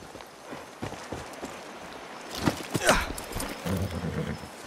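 A horse's hooves clip-clop in the Far Cry 6 video game, a few scattered thuds at first building to a faster run of hoofbeats toward the end, with a voice briefly speaking.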